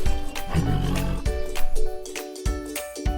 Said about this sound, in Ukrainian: Тигри люблять голосно кричати Р -р -р.